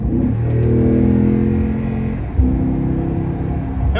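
A Toyota Tundra pickup truck accelerates at full throttle on the road, its engine roaring loud and close with a rising, droning pitch before easing slightly and surging again.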